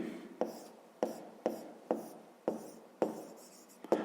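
A pen or pencil scratches across paper in a fifth-grade maths exercise, seven short sharp strokes at a steady rhythm, close and quiet with no one talking.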